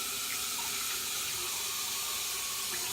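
Tap water streams steadily from a faucet into a sink while mushrooms are rinsed by hand, a continuous close hiss with no talking.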